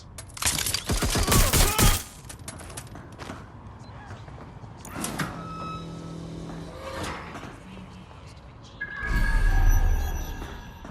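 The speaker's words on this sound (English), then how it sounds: "They're shooting at us!" Gunfire in the video game Watch Dogs: Legion, a loud burst of rapid shots at the start followed by mechanical clanks and another heavy burst near the end, with speech mixed in.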